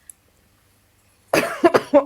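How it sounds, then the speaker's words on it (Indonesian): After a near-silent pause, a person coughs several times in quick succession, close and loud. "Batuk dulu sedikit."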